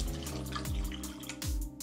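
Tequila pours into a cocktail glass over square ice cubes, a short close splashing stream with clinking ice, two quick pour bursts and no talk.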